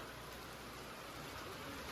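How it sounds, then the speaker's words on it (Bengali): Heavy rain falling outside, a steady soft hiss of downpour on surfaces, faint and continuous throughout with no distinct drops or thunder. "বাইরে এত জোরে বৃষ্টি হচ্ছে"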